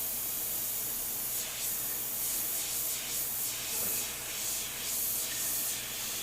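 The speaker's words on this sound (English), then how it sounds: "It's going to spray exactly how we liked it." An airbrush sprays reduced paint in soft, airy hissing bursts, steady with a few louder pulses as the trigger is worked, close by and alone with no talking.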